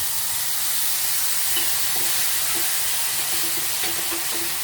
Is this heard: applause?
no